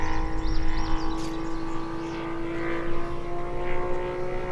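An 87-inch Seagull Model F4U Corsair radio-controlled plane with a radial engine drones steadily overhead in flight, a continuous even tone holding for several seconds with no talking.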